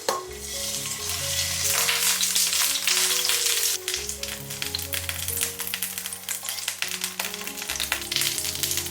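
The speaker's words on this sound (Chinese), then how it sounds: "重新把油加热，把乳鸽放进来，煎到表皮金黄。" Squab pan-frying in hot oil in a wok for a Cantonese scallion-braised squab dish, a loud steady crackling sizzle with occasional scraping stirs, close up and with no talk.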